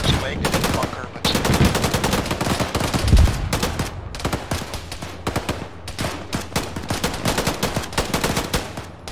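Dense, near-continuous gunfire in the military video game Arma (ShackTac), rapid bursts of rifle and machine-gun shots crackling close and loud for the whole stretch, with occasional faint voices underneath.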